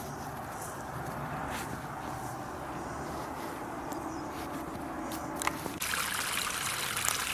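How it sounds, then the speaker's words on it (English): A small stream trickles and flows over a little log in a snowy woodland ravine with a sandy bottom, a steady close water babble throughout that brightens slightly toward the end. "The stream is flowing over a little log here."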